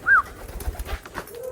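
A pigeon in recall training for free flight gives a brief soft coo, close by, followed by faint low murmurs.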